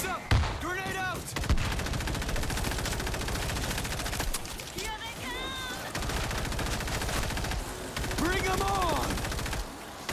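Gunfire and a grenade in the video game World War Z Aftermath, with dense, continuous shooting and bursts throughout, punctuated by sharp blasts, while voices call out over the combat.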